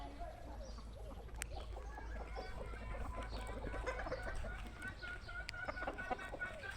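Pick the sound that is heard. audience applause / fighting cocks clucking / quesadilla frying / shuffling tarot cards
fighting cocks clucking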